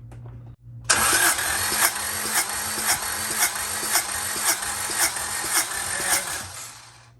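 A Honda B18C1 engine in an Integra GSR cranks over with the plugs out for a compression check, a steady loud whirring with rhythmic pulses for about six seconds before it stops, with no talk.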